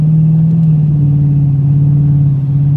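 A 426 Hemi V8 in a Dodge Challenger idles steadily with a deep, even rumble and a slightly lumpy throb, running close and loud throughout.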